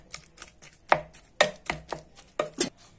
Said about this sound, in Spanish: Por aquí ya estamos triturando la papa para hacer el puré